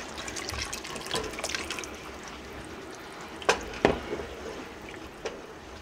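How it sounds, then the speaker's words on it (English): Milk poured into a pot of corn chowder on the stove, a quiet steady liquid wash with a few soft clinks and drips, close and faint. "And then we're gonna add 1 cup of milk."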